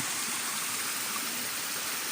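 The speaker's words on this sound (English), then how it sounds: "There's the waterfall there." A waterfall pours into a river in the Cornish countryside, making a steady, close, uniform rushing roar with no other sounds.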